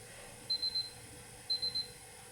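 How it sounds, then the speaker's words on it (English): A Tefal ActiFry air fryer gives two bursts of three quick, high electronic beeps, a second apart, in an otherwise quiet room. "I wonder what that beeps for."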